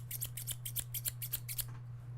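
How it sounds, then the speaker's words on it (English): Scissors snip through paper in a quick run of about ten crisp, close cuts, each a sharp bright click, with a steady low electrical hum underneath and no talking. "Can you hear scissors?"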